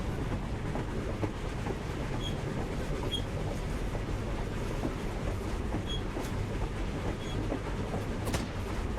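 A train rolls past in a rail shooter video game, a steady rumbling clatter with rhythmic clicks that holds even and moderately loud throughout, with no talk.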